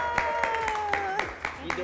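Several people clap in a small studio, sharp irregular hand claps mixed with cheering voices and talk.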